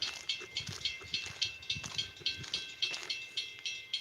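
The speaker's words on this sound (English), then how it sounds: "I think I hear the train coming, so we're just gonna walk back." A distant train rumbles with a steady, rhythmic clatter that pulses regularly, heard outdoors in the cold near a freight line, fairly faint and alone.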